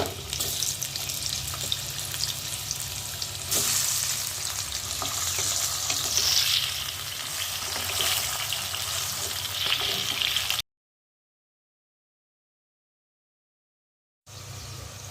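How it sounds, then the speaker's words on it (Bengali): Potatoes frying in hot oil after fish, a continuous close crackling sizzle with occasional stirring scrapes, broken by a silent gap before the sizzle returns. "আলুটা ভেজে তুলব।"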